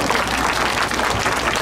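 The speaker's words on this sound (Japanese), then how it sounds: "拍手やね、ここ" Dense, loud applause from a festival audience at the YOSAKOI dance festival in Obama, a continuous roar of clapping with no gaps.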